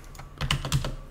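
Fast keyboard shortcuts typed on a computer keyboard while working in Revit, a brisk cluster of close, crisp key clicks with two louder bursts of presses in the middle.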